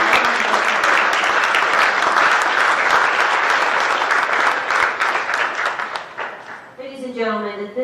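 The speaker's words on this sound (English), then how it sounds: "let's give our airmen, NCO, and senior NCO representatives a round of applause" Loud, sustained applause from an audience at an Air Force senior NCO induction ceremony, steady clapping that thins and fades before a voice begins speaking at the end.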